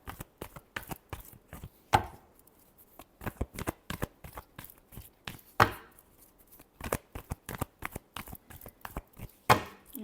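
Tarot cards being shuffled by hand close up, a rapid series of crisp flicking and slapping bursts in an irregular rhythm with a few louder riffles, no talking.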